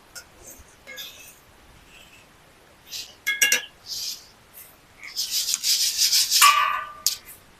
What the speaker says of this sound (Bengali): প্রথমে একবার হালকা করে ভেজে নিব যেহেতু একটু ভিজা আছে তার জন্য একটুখানি গরম করে নিচ্ছি